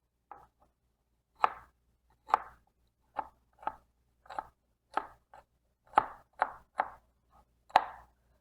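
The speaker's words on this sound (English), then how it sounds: "I'm just using only half of the onion. Everything we need just for the flavor. I'm going to chop it finely." Half an onion being finely chopped with a knife on a board, about a dozen crisp, separate taps in an uneven rhythm, close and fairly quiet, with nothing else heard.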